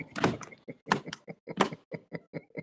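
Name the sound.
knocking on a door by a delivery man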